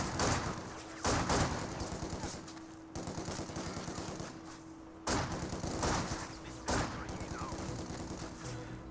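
Pioneer squads firing rifles at long range in Company of Heroes 2, a steady rattle of gunfire and machine-gun bursts with periodic louder volleys, under faint game noise.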